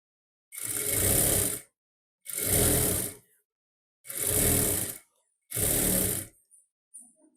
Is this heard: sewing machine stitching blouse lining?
yes